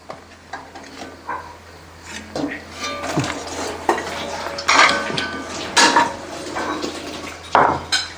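Fried egg bajji being scooped out of a frying pan, with repeated metal clinks and scrapes of a ladle against the pan over faint background sizzle, close and fairly loud, no talking.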